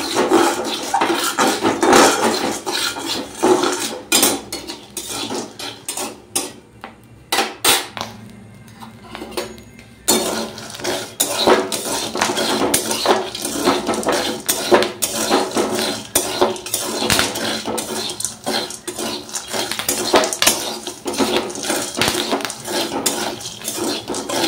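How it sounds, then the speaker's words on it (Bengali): Sun-dried pieces roasting in hot sand in a pan, with dense scraping and clattering from stirring and scattered crackling pops close by throughout, briefly quieter in the middle. "ফুটছে দেখো, ভালো করে রোদে দিয়েছি তো খটখড়ে করে, সেই জন্য সব সাদা হয়ে ফুটেছে।"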